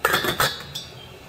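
A lid set down on a pot of winter melon pork soup, a few quick metallic clinks and clatters close by, then quiet.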